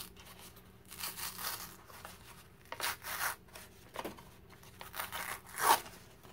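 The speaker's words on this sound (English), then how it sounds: "I'm just running my nail down it to help tear the paper" Paper torn and peeled from corrugated cardboard, a few close, quiet bursts of ripping and scraping with pauses between, alone without talk.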